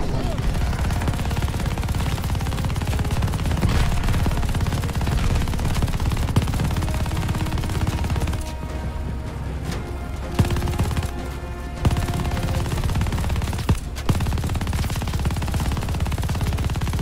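Dense, sustained battlefield gunfire from soldiers in Call of Duty Vanguard, with rapid overlapping shots and bursts under a loud, continuous din, broken by a few brief lulls.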